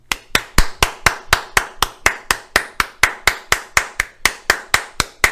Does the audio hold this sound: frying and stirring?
no